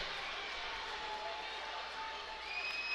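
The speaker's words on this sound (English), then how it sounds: "This large Bobcat contingent in the crowd did not like the call" A crowd at a Kansas 4A substate high school basketball game reacts to a foul call with a sustained, distant roar of voices that swells slightly near the end.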